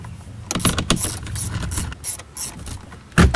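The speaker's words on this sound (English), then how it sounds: "what we're going to do is take out these 2 bolts and lean it backwards a little bit" A ratchet works out two bolts behind a car dashboard 12-volt outlet, sounding as close, rapid mechanical clicking in bursts, with a sharper metallic clank near the end.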